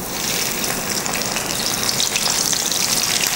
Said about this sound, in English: We fry these